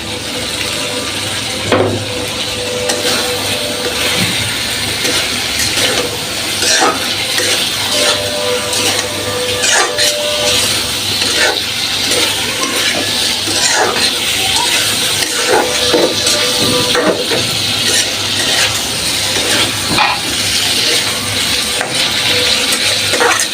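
Chopped tomatoes stirred and sautéed in hot oil in a home kitchen pan, a steady wet sizzle with scraping stirs and clinks of the spoon running throughout.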